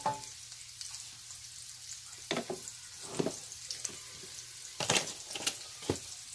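Food sizzling and frying in a hot wok on a home stove, a steady quiet hiss broken by louder bursts of crackle and stirring scrapes, with no talking.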